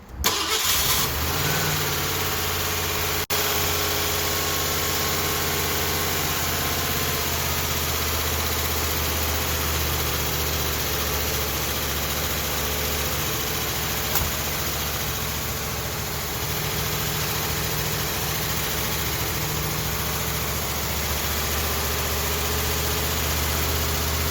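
A Ford LTD engine with a newly replaced camshaft cranks and catches, then idles loudly and steadily for the rest of the span, with no voices.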